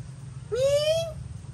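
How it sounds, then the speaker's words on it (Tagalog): A single clear cat meow, rising and drawn out, over a low steady background hum, inside an abandoned house. "May pusa."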